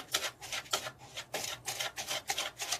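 A whisk beats a clumpy brown sugar mixture in a bowl while making cinnamon rolls from scratch in an RV kitchen. Quick, regular scraping strokes come close up and alone, roughly two per second.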